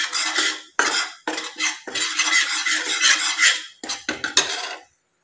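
Semolina and chickpea flour stir-fried in a pan for moong dal halwa, a loud, close metal spoon scraping in quick repeated strokes with short pauses, ending abruptly.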